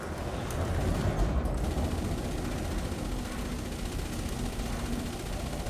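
Sustained rapid cannon fire from pacifier weapons on a Cyto Chieftain ship in space combat, a dense, continuous rumbling barrage at steady loudness throughout.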